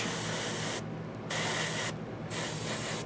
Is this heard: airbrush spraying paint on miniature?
yes